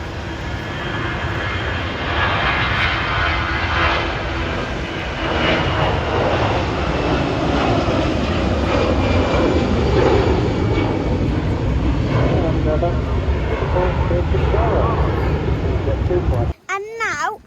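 An Emirates Airbus A380 taking off from an airport, a loud sustained jet engine roar filling the scene steadily for most of the time before cutting off abruptly near the end.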